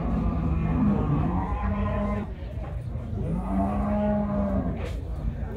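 Cattle moo at a rural cattle fair in Alagoas, Brazil, with several long, low lowing calls close by over a busy background of voices and fairground noise.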